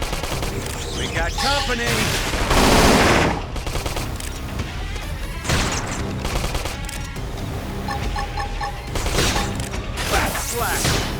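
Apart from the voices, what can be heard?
gunfire in the video game Xenoblade Chronicles X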